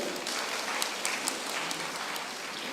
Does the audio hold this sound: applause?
yes